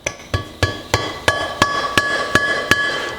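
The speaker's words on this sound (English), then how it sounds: "Grab our dead blow hammer and give it a few taps." A dead blow hammer taps a valve stem seal into place on a cylinder head during a valve job, giving about ten steady, evenly spaced close knocks with a slight metallic ring.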